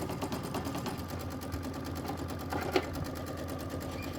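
A sewing machine runs steadily while quilting a Kimberbell Star Spangled Beauty Sea to Sea quilt block, its needle giving a fast, even, continuous chatter at close range, with one brief louder knock near the end.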